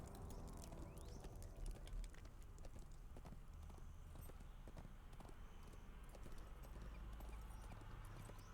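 Horse hooves clip-clopping in The Lord of the Rings Online as a steed moves through West Rohan, a quiet, steady rhythmic clatter set against a faint ambient game soundscape.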